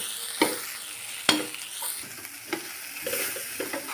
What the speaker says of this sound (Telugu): చింతాకు వేసేసుకుని బాగా కలుపుకోవాలి. సిమ్లో పెట్టుకొని బాగా కలుపుకోండి.